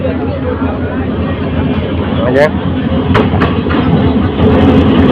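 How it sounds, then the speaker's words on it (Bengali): Parabot Express intercity train with a 2600-series locomotive at Bhairab Bazar junction platform, rumbling and clattering loudly over the rails as it pulls in, with people talking and calling out nearby. "প্ল্যাটফর্মে প্রবেশ করেছে ট্রেনটি"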